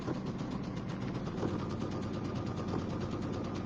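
A sewing machine stitches with monofilament thread while a quilt border block is assembled, giving a steady, close mechanical whir with fine rapid ticking that runs unbroken through the whole stretch.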